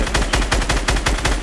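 Rapid automatic gunfire in Fortnite, a close, loud burst of roughly eight evenly spaced shots in quick succession with no talking.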